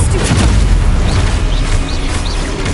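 A Confringo fire spell detonates in Hogwarts Legacy, a loud, close, rumbling explosion with crackling burst texture and a few short whooshing flares, sustained throughout.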